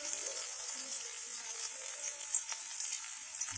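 Chopped onion fries in mustard oil with whole garam masala spices, giving a steady, soft close-up sizzle with faint crackles throughout and no talking.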